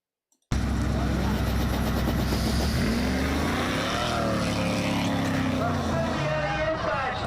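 Race cars roaring around a tight track, including a supercharged Camaro Z28, a loud sustained engine drone that bursts in suddenly and holds steady, with pitch shifts as cars pass.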